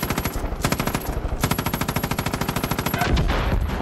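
Rapid, loud machine-gun fire from a helicopter-mounted gun in the video game Far Cry 5, a steady stream of evenly spaced shots for several seconds, swelling into a heavier blast near the end.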